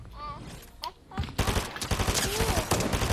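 Automatic gunfire in a shooter game, rapid rattling bursts that grow denser and louder toward the end, mixed with a few short earlier shots and occasional voices.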